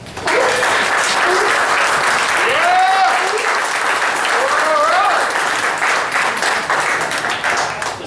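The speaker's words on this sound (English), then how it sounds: "That's big applause." An audience applauds at the close of a reefkeeping presentation, sustained and loud throughout, with whistles and cheering voices mixed into the clapping.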